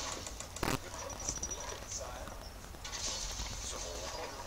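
Hoofbeats from mounted horse archers in the medieval strategy game Stronghold Crusader clatter in a steady clip-clop, with a single sharp click partway through and high tonal game chimes over a busy, constant background.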